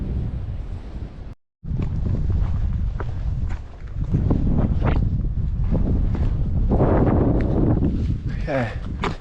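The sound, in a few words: strong wind on mountain summit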